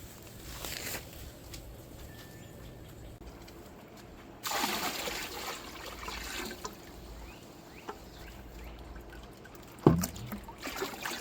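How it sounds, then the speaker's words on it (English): Hose water running into a 27-gallon hydroponics reservoir, a steady trickling splash nearby with a louder gush partway through and a brief clunk near the end, no speech. "Now I'm just going to let that finish filling up to the top with the hose"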